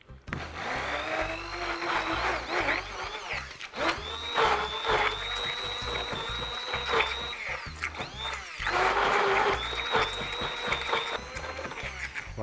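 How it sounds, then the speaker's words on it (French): A hand blender whirs in uneven pulses, its motor pitch rising and dipping as it churns thick onion paste, with clattering against the container. "Toujours pareil avec mon petit mixeur magique."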